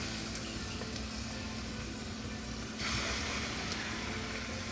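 Skinless chicken pieces hit two tablespoons of hot vegetable oil in a pan and sizzle steadily with a close, hissing crackle that swells louder partway through; no one speaks.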